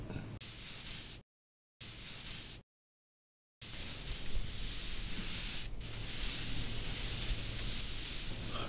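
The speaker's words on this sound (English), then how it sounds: "I am now applying a clear sealer to this resurfacing project." Clear sealer is sprayed onto a resurfaced concrete porch in a close, steady hiss, broken by two short gaps early on, then continuing as an unbroken spray.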